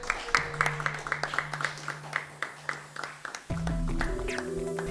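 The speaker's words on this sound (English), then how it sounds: "Round of applause, please." Audience applause at a demoparty, a scattered round of clapping with distinct individual claps, moderately near, over a steady musical drone that swells louder toward the end.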